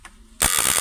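After a quiet moment, a contact-breaker shock circuit running without load starts an abrupt, loud, coarse rattling buzz that continues steadily to the end, rough and close-up.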